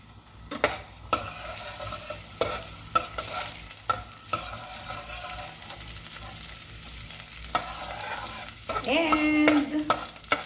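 Garlic sautéing in hot oil for Filipino chicken tinola, a quiet steady sizzle punctuated by repeated spatula scrapes and knocks against the pan, close and unhurried, with a brief tonal squeak near the end.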